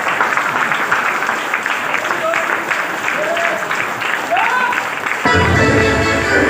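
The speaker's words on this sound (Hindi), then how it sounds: "ताली बजा दीजिए।" An audience claps steadily at a motivational talk, a dense wash of applause with faint voices mixed in, ending abruptly as louder room sound takes over.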